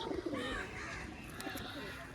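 Domestic pigeons at a seller's loft give repeated gentle coos, low and muffled, with a distant crow-like call briefly mixed into the soft background.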